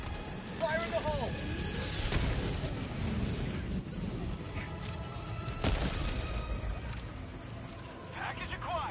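A grenade explodes in the Helldivers 2 video game, several booming blasts and bursts amid continuous battle noise, with voices calling out over the action.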